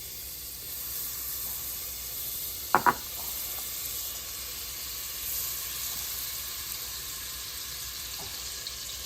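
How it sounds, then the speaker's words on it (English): Extra virgin olive oil and butter melt in a pan with a soft, steady sizzling hiss, broken once by a quick double clink. "we're going to start by adding our extra virgin olive oil and our butter"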